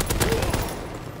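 A VMG light machine gun in a World War II multiplayer video game gives a short, rapid burst of shots lasting about a second. Faint voice activity sits underneath.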